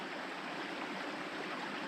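A small stream serving as a water source along a hiking trail in the Pretty River Valley near Osler Bluff, with a constant, close, full rushing flow and no voices.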